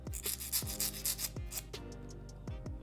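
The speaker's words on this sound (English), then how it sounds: "take my nail file and file this little part underneath, just so that I don't have so much excess hanging off" A nail file rasps back and forth against the underside of an XL C-curve nail tip, a close, quiet rhythm of rapid scraping strokes with light clicks between them.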